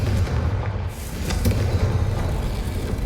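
Confringo fire spell exploding in the Hogwarts Legacy video game, a heavy low boom rumbling through a dark corridor, with a second deep hit midway and sustained roaring rumble after.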